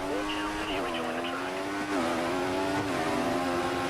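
Formula One race car in the F1 2014 video game on option tires, its engine whining loud and close with steady high revs and short dips at gear shifts, plus a brief tire squeal.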